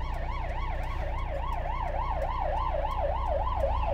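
An ambulance siren wails continuously in a steady rising and falling pattern, loud and close, over the low rumble of traffic at a city intersection, heard from inside a bus.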